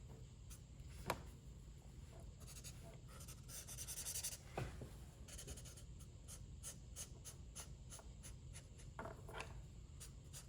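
A marker or pencil shading a solid fill on paper while sketching outerwear, giving continuous scratchy back-and-forth strokes with short pauses, close and quiet, with no talking.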